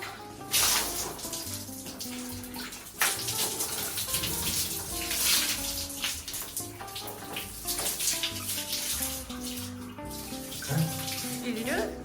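Water is poured over a body in bursts to rinse off soap during a makeshift shower with no running water while bike-packing in the Namibian desert; close splashing comes in uneven gushes over a tonal background.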